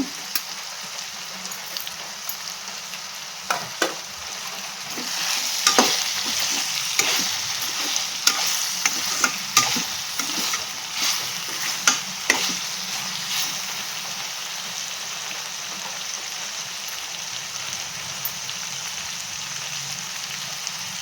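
Bitter gourd palya frying in a pan, a continuous close sizzle and crackle with irregular sharp pops and utensil scrapes through the middle, steady and without talk.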